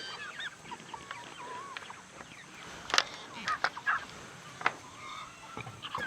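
Turkeys on a homestead gobble and call in short, scattered bursts at moderate distance, with a few louder yelps standing out over a soft outdoor background.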